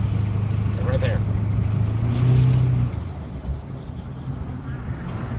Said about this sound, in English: Does the motor sound different to you? The exhaust? Like right there with a shutter like that?